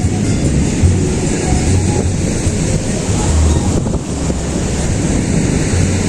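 Heavy ocean swell surging onto Playa Paso Caballos, Nicaragua, where storm surf destroyed beachfront ranches; a dense, continuous roar of breaking waves with wind buffeting the microphone, loud and close throughout.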